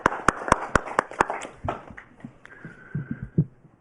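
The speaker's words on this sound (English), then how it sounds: "I think a round of applause, maybe." A few distinct hand claps from attendees at a district council meeting, roughly eight sharp, evenly spaced claps that quickly stop, followed by soft shuffling and faint taps in a quiet room.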